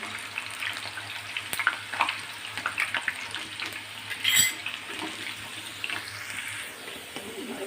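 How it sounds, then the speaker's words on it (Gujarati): Green chilli pieces deep-frying in hot oil until crisp, a steady close crackling sizzle with bursts of popping and a low hum beneath, no voices. "મરચાંના કટિંગને પણ આપણે એકદમ ક્રિસ્પી થાય ત્યાં સુધી આપણે ફ્રાય કરી લઈશું"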